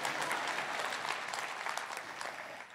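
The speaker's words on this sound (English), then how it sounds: "Yeah, I clap for them." Audience applause fills a sermon or worship talk setting, a dense steady wash of many hands clapping at moderate level for nearly three seconds with no speech over it.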